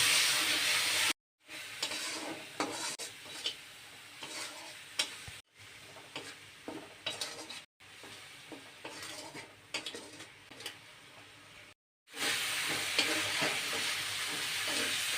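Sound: spices frying with onion and garlic in a pan

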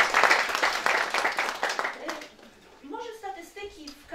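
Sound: audience applause

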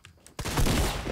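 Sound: shotgun fire in the video game Fortnite

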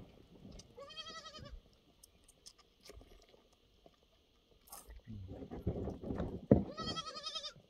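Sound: baby goats bleating

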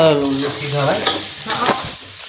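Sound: fresh turmeric roasting in ghee, being stirred

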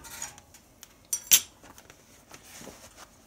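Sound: stirring coals in Regency i1500 wood stove

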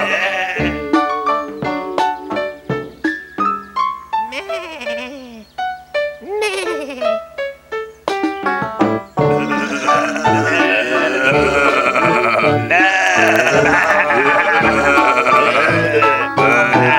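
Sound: sheep bleating

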